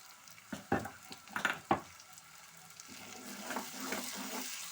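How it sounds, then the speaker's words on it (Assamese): Tomatoes fry in a pan with a soft sizzle, broken by several sharper bursts of stirring and scraping early on, then settling into a steady, gentle crackle. "এতিয়া মই বিলাহীখিনি ভাজি লওঁ ভালদৰে।"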